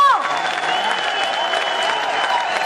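Steady applause from a corporate event crowd as a company CEO and MD is welcomed on stage, a continuous wash of clapping mixed with a held tone and amplified voices over it.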